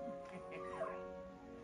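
The Polterpup ghost dog in the video game Luigi's Mansion 3 lets out faint yips and whimpers over a quiet tonal game background.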